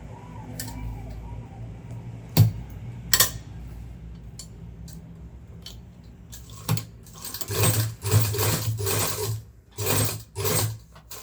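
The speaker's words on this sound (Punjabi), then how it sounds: "ਆਪਾਂ ਹੌਲੀ ਹੌਲੀ ਸਲਾਈ ਪ੍ਰੋਪਰ ਲਗਾਉਣੀ ਆ" A sewing machine stitches a zip onto a school coat, starting with scattered ticks and clicks, then running in several short close bursts toward the end, with no talking.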